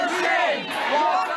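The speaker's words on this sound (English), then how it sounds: "An angry crowd shouted at those leaving the Toronto Public Library on Palmerston tonight" An angry crowd of protesters outside the Toronto Public Library on Palmerston chants and shouts loudly and continuously, many overlapping voices close by, with no single speaker standing out.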